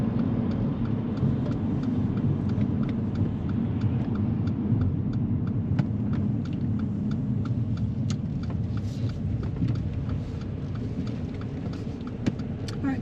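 A car on a driving test rolls on with a steady low engine and road rumble while turning left off the brow of a hill into a car park, with light ticks and knocks over the drone and no talking.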